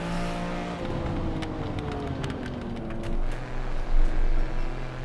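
A modded race car in the Assetto Corsa racing game slides sideways through a corner, with a steady engine drone, sliding tire noise and rising, falling engine pitch, all loud and close throughout.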